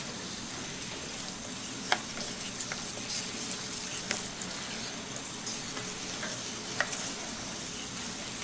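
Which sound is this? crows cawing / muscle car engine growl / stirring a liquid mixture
stirring a liquid mixture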